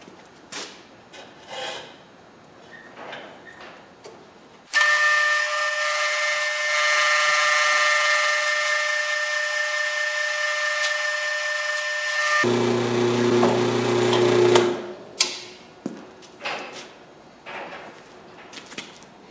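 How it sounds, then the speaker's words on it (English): A power drill bores a hole through a metal workpiece while making a homemade battery cable terminal for a round-post car battery, a loud steady whine of about eight seconds that bogs and shifts lower near the end, with scattered shop handling noises before and after. "let's quick drill a hole in this thing here"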